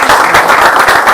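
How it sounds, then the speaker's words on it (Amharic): An audience breaks into brisk, continuous applause for a musician at a surprise celebration, the clapping close, loud and steady for the whole moment. "አጨብጭቡለት"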